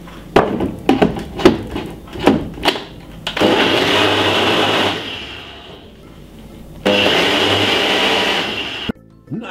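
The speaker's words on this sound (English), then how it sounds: "just blend this about 4 to 5 seconds if you have a good ninja blender" A Ninja blender whirs loudly while blending mixed fruits and spinach, starting after a few sharp knocks and clatters, running in a steady roar for a few seconds, dipping briefly, then surging again before stopping abruptly.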